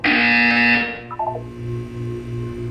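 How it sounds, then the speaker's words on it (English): A loud, harsh electronic buzzer in the video game Portal 2 blares for about a second, then cuts to softer tones and a low pulsing hum. "You will hear a buzzer."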